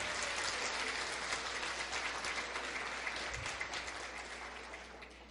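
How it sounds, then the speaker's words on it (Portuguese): An audience applauds at a national embroidery seminar at Unicamp with loud, dense, continuous clapping that fills the room and slowly fades toward the end. "Palmas para ele"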